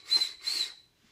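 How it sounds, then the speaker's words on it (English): Vandy Vape Kensei RTA bubble tank with its airflow closed down gives two short, high, thin whistles in quick succession, close and fairly quiet, then fades to near silence. "If I close it down more, it whistles"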